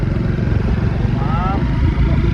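A Honda Wave 125 motorcycle engine runs in gear with a loud, close, steady buzzing drone and fast even pulsing, and a voice talks over it.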